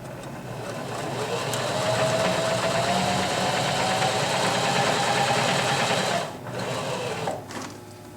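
A Janome HD3000 sewing machine stitches through several layers of heavy-duty denim, a loud, steady motor hum with rapid needle clatter running for about six seconds before briefly slowing and stopping.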